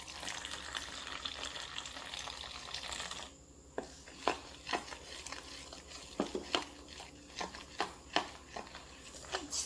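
Miki egg noodles being mixed in a pan, a steady low frying sizzle under repeated sharp clicks and scrapes of a utensil against the pan, close and moderately loud, with no talk.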